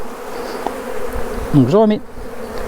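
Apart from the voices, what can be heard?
honey bees buzzing after being shaken off frame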